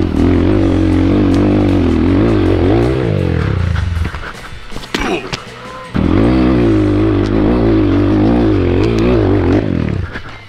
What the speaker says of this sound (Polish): Dobra, motocykl już jest.